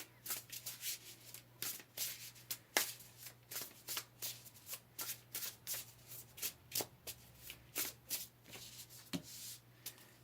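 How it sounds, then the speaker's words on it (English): Close, soft shuffling of tarot cards, rhythmic bursts of papery riffling and sliding that repeat over about ten seconds, with no speech. "Let's pull some more cards."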